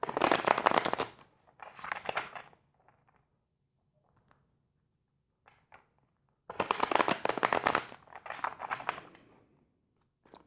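Tarot cards are shuffled close up in two crisp riffling bursts separated by several seconds of near silence, with a few faint taps and card slides in between.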